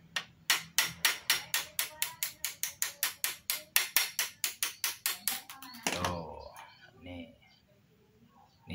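Steel tool hammering a part of a hand-operated uklik water pump valve: a rapid, steady series of about twenty-five sharp metallic strikes, close and loud, ending in a clattering scrape.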